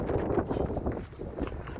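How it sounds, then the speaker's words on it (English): Strong wind gusting outdoors at an RV lot, a steady low rumbling roar of wind buffeting the microphone throughout, with no clear voices. "it's super windy out here"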